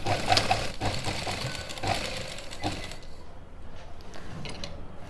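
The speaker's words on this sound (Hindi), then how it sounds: "और फिर मशीन के नीचे लगाएंगे सिलाई करने के लिए।" A sewing machine stitching suit fabric runs in a fast, steady mechanical patter for several seconds, then slows and quiets toward the end.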